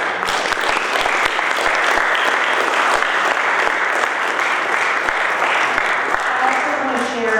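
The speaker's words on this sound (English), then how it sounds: "can I have a round of applause for each one?" A debate audience in Mercer County claps steadily and loudly for the candidates, a dense, sustained wash of applause that starts to thin out right at the end.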